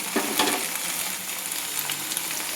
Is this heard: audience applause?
no